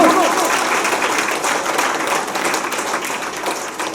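An audience at a cooperative society event breaks into sustained, even applause for a few seconds, a dense wash of hand claps fairly close and fading slightly toward the end.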